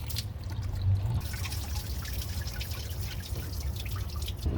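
Water is poured steadily into a car radiator to flush the cooling system, a continuous splashing trickle with faint dripping, close by and with no voices.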